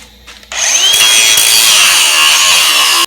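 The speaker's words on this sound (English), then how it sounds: "I gotta take the grinder to that last one" An angle grinder cuts into metal on a 1994 Ford Ranger, a loud, steady high-pitched whine that starts abruptly and runs close and continuous to the end with no talking.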